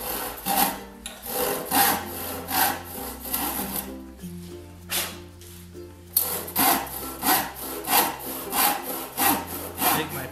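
Hand saw with alternately bevelled teeth cutting wood for a workbench leg mortice, steady rhythmic rasping push and pull strokes up close, with a short pause midway and no talking.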